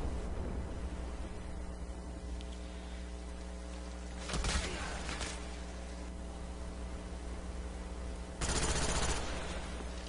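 Rifle fire and flashbangs in Black Ops come as two short, loud bursts of rapid gunfire about four seconds apart, over a steady low game hum with no voice.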